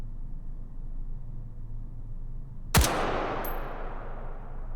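One sharp, loud gunshot cracks out in the VR shooter H3VR, aimed at a target 100 meters away, followed by a long fading echo and a faint distant ping of impact.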